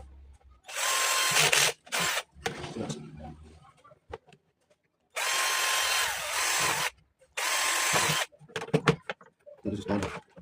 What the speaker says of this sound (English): So I'm going to drill all of them quickly.